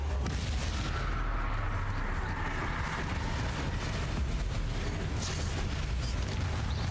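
Confringo blasting spell in the video game Hogwarts Legacy: a continuous, loud, rumbling barrage of booming explosive blasts with a low, heavy impact texture, sounding dense and close.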